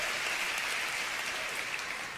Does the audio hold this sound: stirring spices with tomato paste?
no